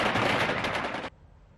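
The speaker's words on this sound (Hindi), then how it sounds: "तालिबानी आतंकवादी हर्ष फायरिंग कर रहे हैं" Celebratory gunfire by Taliban fighters in Afghanistan: a loud, dense burst of rapid automatic fire that cuts off abruptly after about a second, leaving faint background noise.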